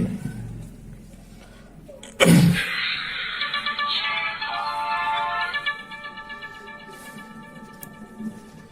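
A sharp click, then a bright electronic startup jingle rings out from a Gphone GP21 button mobile phone for a few seconds before fading, with light handling noise.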